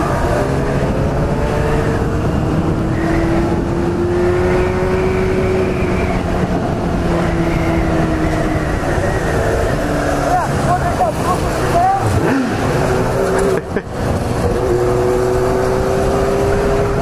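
A Honda Hornet motorcycle engine revs repeatedly toward its cut-off around 9,000 rpm, rising and falling whines with a brief sharp drop, loud and near, while people talk over it.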